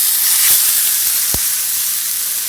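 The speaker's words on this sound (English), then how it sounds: "Hear that sear, that sizzle?" A ribeye steak sears in a hot oiled pan, giving a loud, continuous close-up sizzle and hiss with a couple of brief pops.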